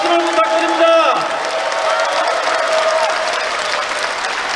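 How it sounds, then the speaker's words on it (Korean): An outdoor crowd at a commemorative ceremony and cultural festival cheers and claps in a sustained, dense burst, with a few shouting voices and tonal sounds near the start before settling into steady applause. "우리 모두 우리와 같은 함성과 박수를 부탁드립니다"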